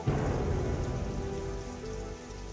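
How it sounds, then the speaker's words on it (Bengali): Steady, dense rain in a storm pouring down close by, a constant hiss with a low rumbling undertone and no voices. "আর এই ঝড় বৃষ্টির মধ্যেই যাবো বিথি"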